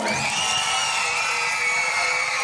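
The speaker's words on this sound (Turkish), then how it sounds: "Rafadan Tayfa'nın macera perest ekibi sahneye çıkınca çığlıklar ayyuka çıktı" A crowd of children screaming and cheering as costumed performers take the stage at a shopping mall event in Malatya, a dense continuous high-pitched roar of shrieks and whoops.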